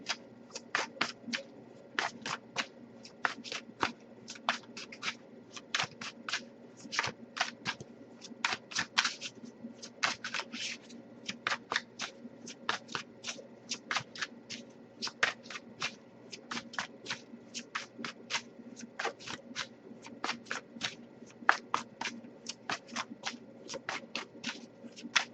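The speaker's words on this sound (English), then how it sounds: "Alright, nothing coming up, but I'll give a few more shuffles before I move on." Tarot cards being shuffled by hand during a card reading, a long run of quick, crisp riffles and snaps repeating in a brisk, irregular rhythm. The sound is close and fairly loud, with no talking.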